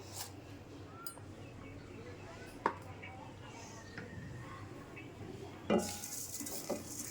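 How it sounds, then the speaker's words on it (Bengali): Broken rice roasts in a hot wok, with faint dry stirring and scraping plus a couple of soft metal clinks, all very quiet. "এখন এই যে খুদটা অল্প অল্প দিয়ে আমি ভেজে নেব"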